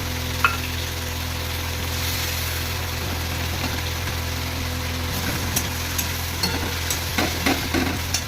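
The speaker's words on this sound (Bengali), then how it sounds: "চলো মশলাটা কষানো একটু অপেক্ষা করি।" Spices cooking down in oil for a vegetarian banana flower curry, a soft steady sizzle with occasional clinks and scrapes of a stirring spoon, faint and unhurried.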